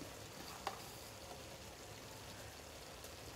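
Chicken fries on a low flame with red chilli powder, giving a faint, steady sizzle with one light clink of a utensil near the start.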